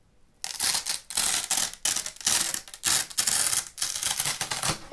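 Rough, repeated rubbing and ratcheting of a strap on a SilverStone Sugo SG09 Micro ATX mini tower computer case being handled, in bursts with short pauses, loud and close.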